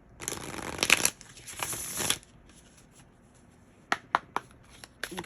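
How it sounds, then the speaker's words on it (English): A deck of oracle cards is shuffled in two long riffling bursts, followed by a few short, sharp taps and flicks of the cards near the end, close and fairly quiet. "That was a horrible shuffle."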